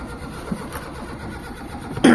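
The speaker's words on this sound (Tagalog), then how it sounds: "Start tayo engine." Car engine cranking during a hard start in a garage, a short rough starter churn that ends in a sudden louder burst as the engine catches briefly.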